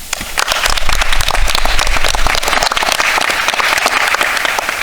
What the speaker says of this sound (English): Please join me in applauding for the teachers.